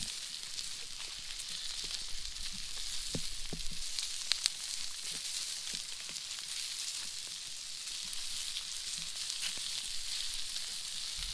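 Steak sizzles steadily on a hot rock over an open fire in the wild, a continuous bright hiss with occasional pops and crackles, close and unbroken, with no talking.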